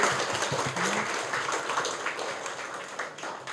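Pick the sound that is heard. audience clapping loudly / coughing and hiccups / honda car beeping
audience clapping loudly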